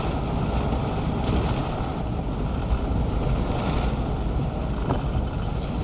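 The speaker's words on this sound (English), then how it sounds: "the wind is picking up sharpish like." Strong wind roars steadily and loudly across the whole stretch, a dense, blustery rush buffeting the microphone with no voices.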